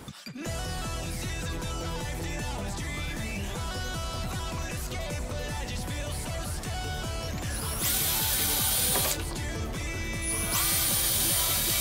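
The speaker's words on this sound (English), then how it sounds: "You can drill a hole at each end and use your drill bit to kind of eat through the plastic" A power drill whirs loudly and continuously, boring through the plastic of a lawn mower discharge chute, its pitch shifting as it bores, with a brighter, harsher stretch partway through.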